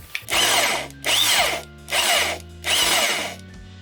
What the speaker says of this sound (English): When I need to drill my larger hole, I can drill through both sides